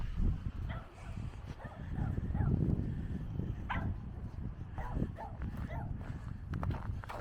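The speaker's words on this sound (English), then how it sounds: "Hey doggy." A dog walking outside on a residential street, with short barks and yips mixed with scuffing footsteps and clicks, fairly faint against light background noise.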